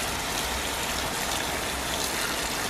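Garden hose spraying water onto a burning barbecue in pouring rain, a steady, dense hiss of spray and falling water running unbroken throughout, with no voices.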